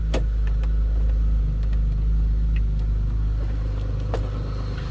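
A 2002 Chevrolet Monte Carlo SS with its stock 3800 V6 runs steadily at close range, a constant low rumble with brief clicks and thumps from inside the car, no voices.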